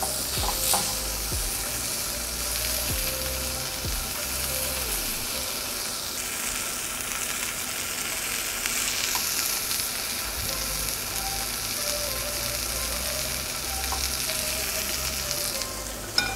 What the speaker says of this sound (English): when you're cooking the opposite side, we can just reduce the flame, because the pan is already hot enough